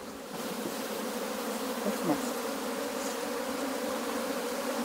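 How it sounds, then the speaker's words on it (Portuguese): Honey bees swarm loudly as a hive frame is shaken, a steady dense droning buzz close up that holds throughout with a slight swell midway. "a gente solta as abelhas aqui dentro e sacode o quadro"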